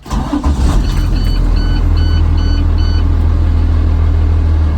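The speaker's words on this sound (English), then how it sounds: "You're just going to turn the key on and start the bus." A school bus engine cranks and catches on the key, then settles into a steady loud diesel idle with a low rumble, while a faint beeping tone repeats briefly.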